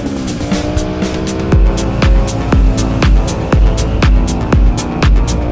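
A 2008 Aprilia Shiver 750 motorcycle accelerates hard at full throttle, its engine rising in pitch again and again through quick, rhythmic gear shifts, loud and close.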